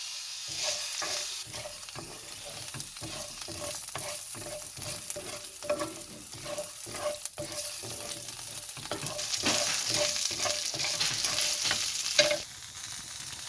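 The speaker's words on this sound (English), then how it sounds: "We are going to roast these lentils until it turns into golden color." Lentils roasting in a pan over a medium flame, stirred with repeated rhythmic scrapes over steady close sizzling that grows brighter toward the end, with no talking.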